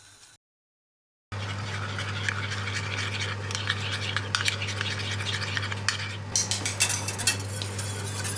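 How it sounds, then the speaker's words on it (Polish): Continuous scraping and swishing of a utensil stirring flour into cream to a smooth paste, steady and close, with a low hum underneath and no talking. "rozprowadzam mąkę w śmietanie, tak żeby powstała gładka masa bez grudek"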